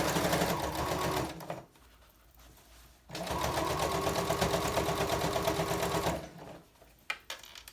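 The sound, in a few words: sewing machine stitching bias tape on a quilted placemat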